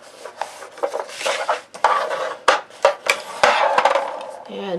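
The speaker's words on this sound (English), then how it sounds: "Close down the card and burnish." Foam folder burnishing creased paper on a card for a gift bag mini album, giving soft repeated rubbing and scraping strokes close up, with a few small tapping knocks between passes.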